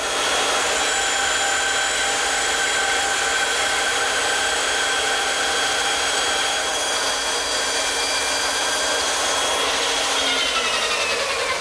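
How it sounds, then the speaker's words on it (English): A bandsaw cuts the corners off a wooden shelf, producing a continuous loud whining drone with steady high tonal hum and no pauses, the pitch dropping slightly near the end as the blade slows. "I'll remove the material at the bandsaw."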